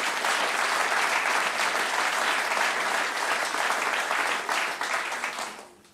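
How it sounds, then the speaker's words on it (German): An audience at a cabaret comedy performance breaks into loud, dense applause that holds steady for several seconds, then fades away at the end. "Applaus"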